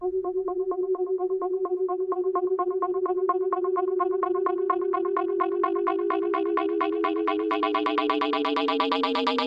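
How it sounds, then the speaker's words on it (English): A processed vocal sample from a Black Octopus vocal bundle pulses in rapid, evenly repeating tones that climb and thicken toward the end, a sustained, effected synthetic texture with no talk. "Nice reverb tail there."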